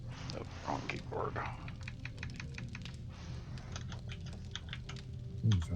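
Typing on a PC computer keyboard, a brisk run of many close, crisp key clicks in uneven bursts, with speech heard over part of it.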